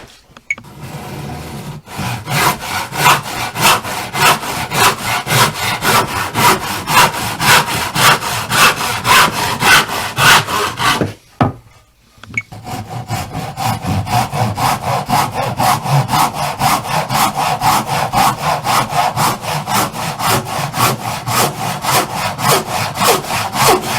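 A handsaw cuts through wood boards for building A-frame trestles, its steady back-and-forth strokes loud and close, pausing briefly midway before resuming the rhythmic rasping.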